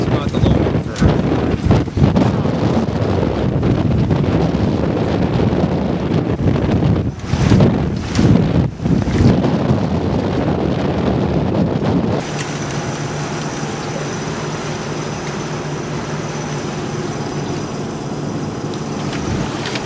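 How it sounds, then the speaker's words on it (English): Strong wind of about 25 mph roars across a sailboat, a loud, constant buffeting rush with gusty surges, settling into a steadier hiss with a faint tonal hum later on. "How many mile an hour winds right now? 25 mile an hour, 58 knots."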